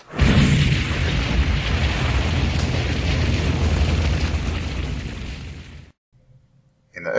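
A fire-and-explosion effect roars loud and close, a dense rumbling blast that sustains for about six seconds before cutting to near silence, then swelling again at the end.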